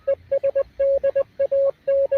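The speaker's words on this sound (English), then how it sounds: "Morse code." A Morse code signal sounds as a clean steady tone keyed in short dots and longer dashes, with a clear rhythmic pattern of beeps and gaps over a faint noisy background.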